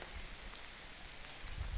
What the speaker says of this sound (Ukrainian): так грається дощик із листячком вишень, із самими вишеньками